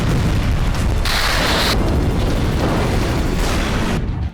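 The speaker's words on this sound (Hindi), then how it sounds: "रात के अंधेरे में यह आग एक मिसाइल धमाके की वजह से लगी है।" A loud, sustained roaring blast from a missile explosion at night, dense and rumbling, with bursts of crackling and booming layered over the continuous wall of noise.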